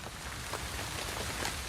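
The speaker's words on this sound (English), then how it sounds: "In the night, rain begins to fall." Steady rain falling at night on the Hawaiian lava fields, a dense hiss of drops on surfaces with occasional louder patters, continuous throughout.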